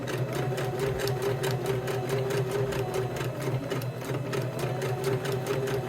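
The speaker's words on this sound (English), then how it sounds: "And continue sewing around" A sewing machine stitches steadily around rope pressed into a cork pumpkin coaster, a continuous close, even mechanical hum and rapid needle chatter with no pauses.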